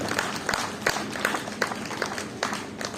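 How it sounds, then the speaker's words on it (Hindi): Audience applause for a team of young performers after a children's stage show, a steady patter of clapping with sharper peaks, fairly close and moderately loud. "एक जोरदार ताली इस पूरी टीम के लिए"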